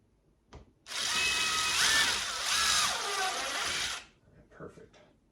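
A power drill with a drill bit boring a hole through a plexiglass sheet, a loud, close whine lasting about three seconds with shifting pitch as the bit bites, followed by faint handling clatter.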